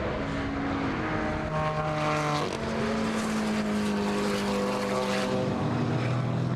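GT4 race cars, including a Ginetta, blast past during qualifying at the Nürburgring, with loud, close engine notes rising and falling through gear changes and overlapping cars in a continuous roar.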